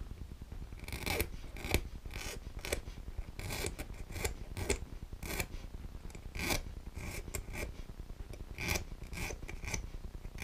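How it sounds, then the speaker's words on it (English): Burrs are filed off a small part for an OLED display project: a steady series of quick, close rasping strokes with an uneven rhythm, and no voices. "Knock off those burrs."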